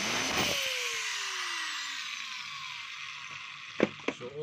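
A DeWalt DWE8100S 4-inch angle grinder spins down after a short test run, its whine falling smoothly in pitch and fading, then a few sharp clicks and knocks near the end.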